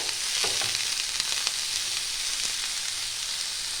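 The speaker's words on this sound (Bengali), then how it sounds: "ওটা 2-3 মিনিট আমি ভাজবো, বেশি ভাজার দরকার নেই" Broccoli fries in hot oil in a pan, giving a steady close sizzle throughout with a few soft stirring scrapes and crackles, with no talking.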